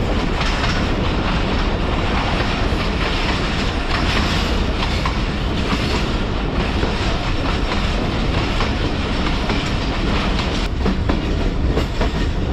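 The Sialkot Express passenger train runs between Narowal and Sialkot at about 45 km/h, giving a loud, continuous rail roar with steady clickety-clack of wheels over track joints, heard from on board.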